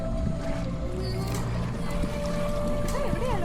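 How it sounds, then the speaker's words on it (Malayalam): A boat passes on the water nearby with a steady, low churning wash and some faint whining tones, while indistinct voices mingle in the background. "അതുവഴി ബോട്ട് പോകുന്നുണ്ട്"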